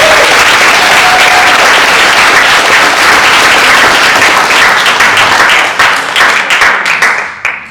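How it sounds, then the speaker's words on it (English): Loud, close applause from an audience at a publication event, dense and sustained, then thinning into scattered individual claps as it dies away near the end. "Can we get a round of applause for our audience?"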